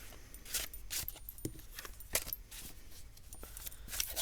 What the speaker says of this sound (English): This really shuffles wonderfully.